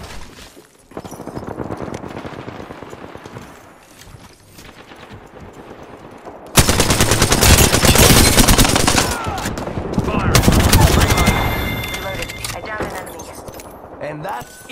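Automatic gunfire in Apex Legends bursts loud and dense in two long stretches, preceded by quieter in-game action with scattered shots.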